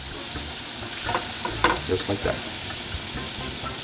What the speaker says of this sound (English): actually add your butter in it so it could melt with the garlic